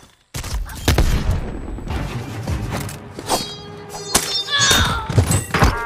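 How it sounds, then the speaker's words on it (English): A frag grenade thrown and bursting in Call of Duty, a sharp thunk followed by heavy thuds and blasts, loud and close, with quick gunshot-like cracks scattered through the rest. "Heads up, frag."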